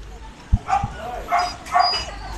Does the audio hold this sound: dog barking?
yes